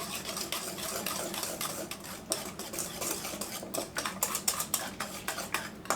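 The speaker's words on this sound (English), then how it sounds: "So let me stir that up." A spoon briskly stirring oil in a cup for an oatmeal breakfast casserole: rapid, rhythmic clinking and scraping against the container, close and steady, with no speech.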